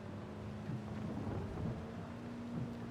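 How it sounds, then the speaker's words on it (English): Rain falling while driving in the video game Forza Horizon 5, a soft steady wash of rainfall with low rumbling underneath, quiet and continuous. "We're just chilling, driving through the rain."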